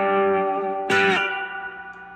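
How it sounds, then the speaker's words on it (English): Slide notes on a cigar box guitar run through a DOD overdrive pedal with reverb: a sustained distorted chord, then a loud bright slide upward near the middle that rings out and decays with a reverb tail. "all I have on is the DOD overdrive and the reverb. Notice if I slide up,"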